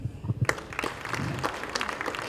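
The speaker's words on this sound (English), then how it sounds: "We need to clap for these kids so that they can actually feel motivated" An audience at a junior championship awards ceremony claps for the children, a brief burst of dense applause that starts up suddenly and carries on steadily.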